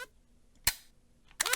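Two sharp gunshots fire in a small indie video game made for a game jam, spaced under a second apart, each a loud crack with a brief ringing tail, the second followed by a short burst.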